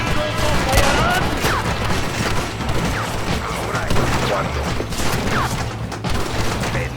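Rapid, overlapping gunshots from a shootout in the PC game Red Dead Redemption, dense and loud throughout, with shouting voices mixed into the barrage.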